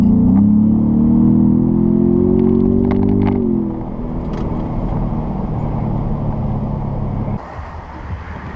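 A 2017 Ford Raptor in sport mode accelerates with a loud, steady engine drone that rises in pitch for a few seconds, then eases off and settles into a lower cruising hum with road noise.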